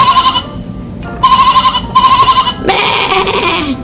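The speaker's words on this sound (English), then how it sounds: "What noise does the sheep make?" A sheep bleats in an animated farm-animal learning setting, several repeated wavering calls with short gaps, loud and close, ending in a longer, more strained bleat.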